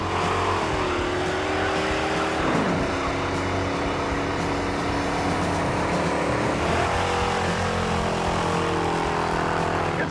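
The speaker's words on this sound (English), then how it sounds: "Let's burn rubber again." A 440 Dodge Dart roars loud and close through a tire-spinning burnout, its engine holding a steady high rev with two dips and swells where the throttle eases and climbs again, layered over a broad rushing hiss of spinning rubber.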